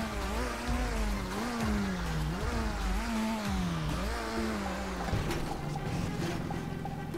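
Car in the GTA RP video game revving and accelerating through repeated rising and falling engine sweeps, with brief tire squeal, loud and close throughout with no talking.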